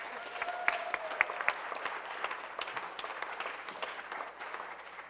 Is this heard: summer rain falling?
no